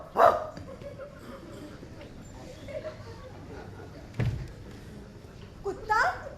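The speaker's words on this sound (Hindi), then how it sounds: "कुत्ता? हाँ," A dog at a theatre performance gives a couple of sharp barks, one at the start and more near the end, among a thud and background murmur in a roomy space.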